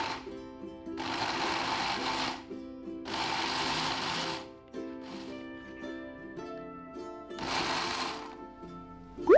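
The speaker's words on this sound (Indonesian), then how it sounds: "Kemudian kita blender sampai halus." A kitchen blender grinds Balinese spice paste with shrimp paste and cooking oil, running in three loud, steady bursts of a few seconds each with brief pauses between them.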